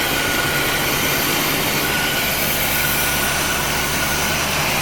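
A 1975 C3 Corvette Convertible engine idles slightly high, droning continuously with a low rumble and broad hiss, no talking, holding an even level throughout.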